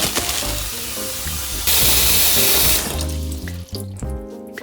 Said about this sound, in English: water in the sink.